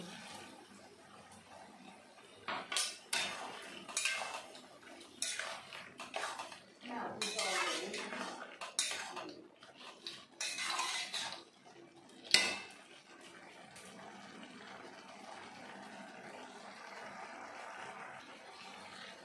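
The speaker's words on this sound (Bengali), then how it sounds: "এই মিক্সির জারটা ধুয়ে সামান্য একটু" A mixer jar is rinsed with a little water, giving splashes, sloshes and clinks of the jar and utensils in bursts, then a sharp knock and quieter room tone; a voice is heard faintly.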